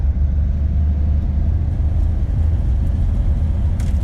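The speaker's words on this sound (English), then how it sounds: "it'll now rev past" A 1966 Chevrolet Nova with a re-jetted Rochester BV carburetor runs with a deep, steady engine rumble, close and loud, holding fairly constant without sharp rises over a few seconds.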